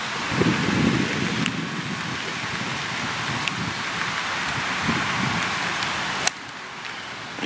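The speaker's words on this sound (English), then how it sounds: "a little bit of rain to deal with, not too bad" Light rain and gusting wind on a golf course, a steady broad hiss with wind buffeting the microphone, louder in the opening second, and a sharp click near the end.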